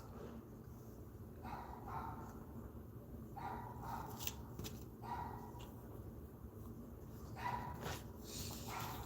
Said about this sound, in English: That dog is annoying.